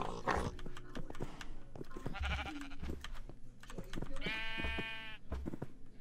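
Sheep bleat in the Minecraft video game, two wavering cries standing out over a dense, busy layer of game sounds and clicks.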